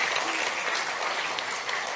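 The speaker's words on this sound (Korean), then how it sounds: "네, 박수 한번 크게 부탁드립니다." A crowd at a Seoul Digital Bio City project briefing applauds loudly, a thick continuous burst of many hands clapping at once.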